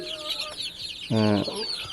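Native country chickens cluck softly, then one gives a loud, sustained squawk-like cluck, with busy farmyard noise around.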